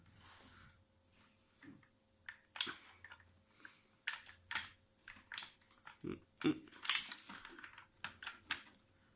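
The stock of a Cyma CM.052 RPK74S airsoft rifle folds with a series of sharp mechanical clicks, taps and rattles, scattered and close, in an otherwise quiet room.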